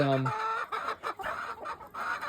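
Chickens cluck in short, uneven bursts close by, with a brief higher call at the start and a few pauses between clucks.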